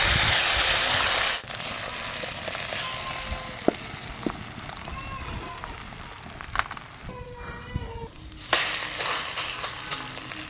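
Eggs fry in a pan for a Bengali home-cooked meal, a steady hissing sizzle running throughout with scattered pops and crackles, a brief quieter stretch in the middle, and occasional faint voices nearby.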